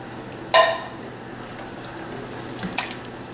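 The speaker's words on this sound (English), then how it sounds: "Now drain the juice out." Juice drained from cans of petite diced tomatoes: a brief splashy pour near the start, then quiet, then a few soft drips and a clink of the can, heard close with no talking.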